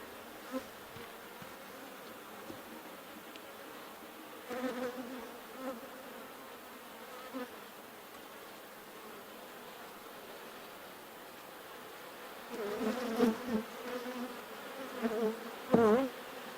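A honeybee colony hums steadily while a hive is opened and its brood frames are inspected, a continuous close buzz with brief swells of louder wingbeat near individual bees.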